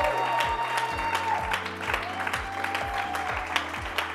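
An audience claps and cheers at a motivational talk, a steady dense wash of applause running the whole time over a rhythmic low thumping beat.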